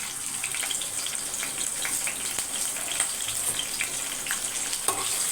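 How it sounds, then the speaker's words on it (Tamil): Green chillies fry in oil with cumin, fennel, cinnamon, cloves, stone flower and curry leaves, a continuous crackling sizzle close up with occasional stirring clicks. "இதுக்கு பச்சை மிளகாய் நல்லா வதங்கணும்"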